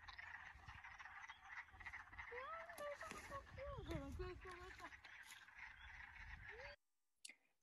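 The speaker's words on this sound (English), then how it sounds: "the chuck, chuck, chuck, chuck, chuck, chuck, chuck, chuck, of the wood frog" Wood frogs give rapid clucking chuck calls in a Michigan spring wetland, mixed with thin peeping frogs and a few duck-like quacks, steady and fairly close until the chorus cuts off near the end.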